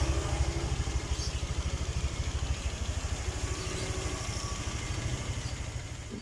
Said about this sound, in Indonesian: Motornya sudah nyala normal.